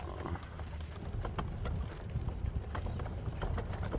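Horse hooves clip-clop at a walk while pulling a caravan outdoors, a steady, close rhythmic clatter of hoof strikes over rolling background noise.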